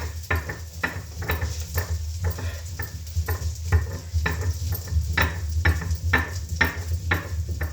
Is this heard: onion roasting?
yes